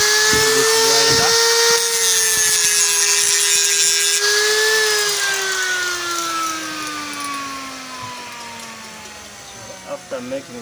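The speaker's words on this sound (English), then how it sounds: "Use this grinder." A grinder flattens the surface of a motorcycle cylinder head, a steady loud whine that slowly drops in pitch as the tool bears down, running continuously before a few short bursts near the end.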